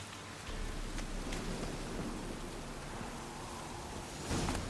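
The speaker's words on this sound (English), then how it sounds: "Looks like rain." Rain falls in The Witcher 3, a steady, soft hiss of raindrops on surfaces with a brief louder gust near the end, quiet and alone with no talking.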